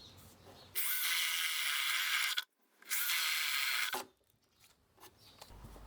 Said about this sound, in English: I'm also going to mark and drill some holes in the upper brace at the end of the bench.